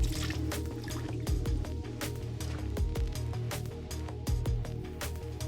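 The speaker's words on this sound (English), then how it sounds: "Rinse the filter for old carbon and disinfect the tube and mesh filters." Water drips and trickles while a WaterStillar carbon filter is rinsed, a steady close wash broken by irregular sharp splashes and taps against the housing.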